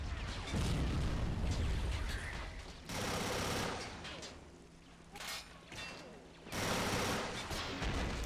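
Dense gunfire in the Star Wars: Galaxy at War mod game, rapid overlapping bursts and explosions in waves with brief lulls between volleys, mid-loud battle ambience.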